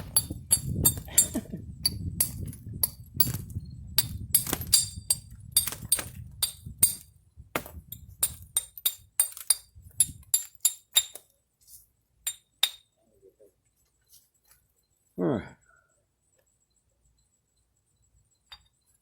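Glass bottle bottoms being knapped: sharp, bright clinks and taps strike in a steady irregular series, denser early with a low rumble beneath, then thinning to sparse isolated ticks and a faint scrape before falling quiet.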